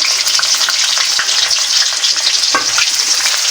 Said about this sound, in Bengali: পেঁয়াজ কুচি, দেখতে পাচ্ছেন পেঁয়াজ কুচি দিয়ে দিলাম।